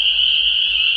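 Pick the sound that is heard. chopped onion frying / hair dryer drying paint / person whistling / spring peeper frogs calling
spring peeper frogs calling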